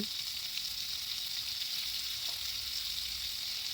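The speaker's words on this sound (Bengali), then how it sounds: "বাকি তেলেই আমি রান্নাটা করব এবার এর মধ্যে আমি দিয়ে দেব বেশ কিছুটা পেঁয়াজ কুচি" Chopped onion fries in oil left over from frying fish, producing a dense, even, close sizzle that hisses without pause throughout.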